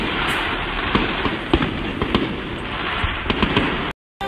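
Fireworks going off at a street protest produce a loud, dense barrage of crackling pops and sharp bangs that run continuously and close by, with no voices.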